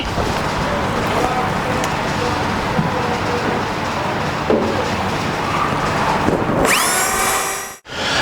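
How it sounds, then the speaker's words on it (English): A power drill bores a hole through the lip of a steel gas tank on a 1963–72 Chevy or GMC truck using a 3/8 bit, a steady close whir that ends in a sharp rising whine and a brief stop. "and then I'll drill it out with a 3/8"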